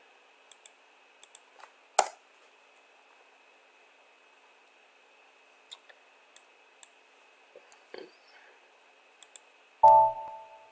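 Sparse, close computer keyboard typing comes in short bursts of crisp clicks separated by quiet pauses, with a few louder key strikes and a thump at the end.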